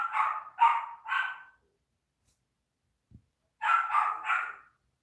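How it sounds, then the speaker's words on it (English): A dog nearby gives three sharp barks, goes quiet for a moment, then barks three more times, with no talking over it. "Man, that dog."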